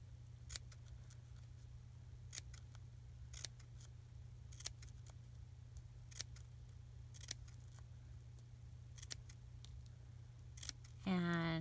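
Scissors snip through paper in a slow series of sharp, separate cuts spaced a second or so apart over a low steady hum, with a voice briefly at the very end.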